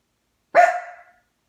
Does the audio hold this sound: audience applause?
no